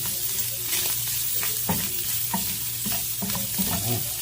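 Garlic and spices fry in a small amount of oil, with a constant crackling sizzle and repeated close scraping stirs of a utensil in the pan.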